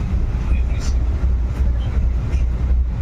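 Inside a moving passenger train, a continuous low rumble and rattle of the carriage rolls on with faint higher squeaks, steady and loud, while people talk over it.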